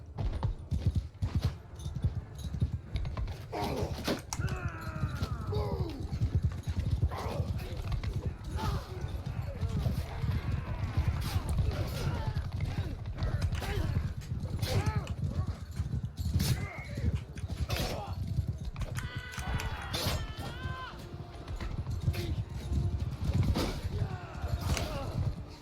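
Cavalry horses in Bannerlord gallop in a steady, dense drumming of hooves across the whole stretch, with occasional neighs rising above, while someone talks over the action throughout.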